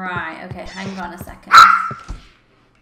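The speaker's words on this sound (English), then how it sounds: "That's my dog barking." A pet dog barks in a short burst of loud, sharp barks near the end, after people talk casually over faint background noise.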